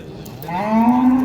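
A single cow at a livestock bazaar moos up close, a low rising bellow that swells and holds to the end.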